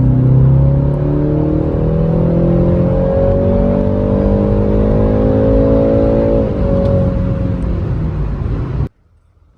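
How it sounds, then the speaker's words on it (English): A BMW 330i with a cheap aftermarket intake pulling under heavy acceleration, a loud steady engine drone climbing in pitch for several seconds, a brief dip as it shifts, then cutting off abruptly. "Now we're gonna do a heavy acceleration."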